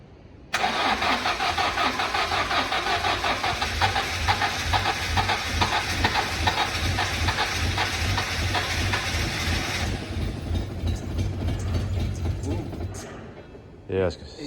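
A Rochdale Olympic car engine cranks and catches, then runs at a steady, loud, close idle for about ten seconds before fading to a quieter rumble, with a short knock near the end.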